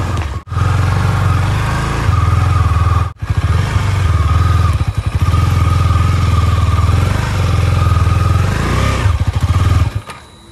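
A KTM Duke 250 motorcycle engine idles and runs close by in a steady low drone, cutting out briefly twice before catching again, on a rough road.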